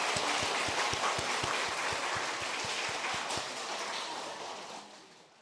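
A church congregation claps in welcome, a full wash of applause with a steady low rhythmic thump beneath it, which gradually thins and fades out near the end.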